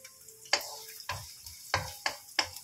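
Garlic and chopped onions sautéing in a pan while making laing with dried taro leaves: a soft sizzle under repeated sharp scrapes and clacks of a spatula stirring, about six strokes in a steady rhythm, close by.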